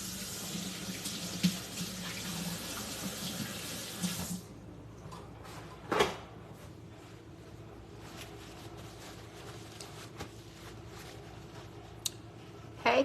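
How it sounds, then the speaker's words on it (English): Tap water runs steadily into a sink during handwashing and then cuts off, leaving quieter splashes and faint handling sounds nearby. "let me wash my hands."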